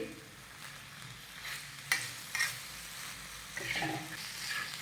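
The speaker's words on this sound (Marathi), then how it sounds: "तर साधारण दोन मिनटं आपण हे सगळं व्यवस्थित परतून घेऊयात म्हणजे हा मसाला ह्या शेंगांमध्ये व्यवस्थित मुरेल" Drumstick pods tossed with masala on a griddle (tava), a soft steady sizzle with a few sharp stirring scrapes and clinks, quiet and close, no voice.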